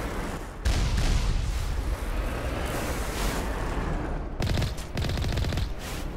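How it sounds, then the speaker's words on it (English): Missile and weapon fire during a Mass Effect battle against Geth: a dense, roaring barrage of explosive bursts runs continuously, broken by a short pause and then a rapid series of sharp blasts. "There are missiles."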